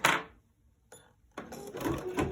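An embroidery machine stitches a design in short mechanical bursts, a brief whirring run, a pause, a small clack, then a longer steady rattling run, heard close and loud without speech.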